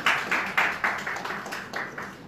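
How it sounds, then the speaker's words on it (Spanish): Audience at an event claps in a short, fairly faint burst of distinct, rhythmic claps that taper off over a couple of seconds. "un gran aplauso"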